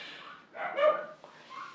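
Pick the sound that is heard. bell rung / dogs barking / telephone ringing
dogs barking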